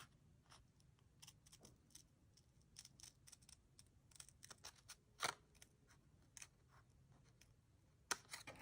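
Paper card cut along a line with scissors makes faint, close snips and crisp clicks in an irregular series, with one sharper snip near the middle and another near the end, in a quiet room without talk.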